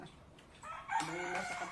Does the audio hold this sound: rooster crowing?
yes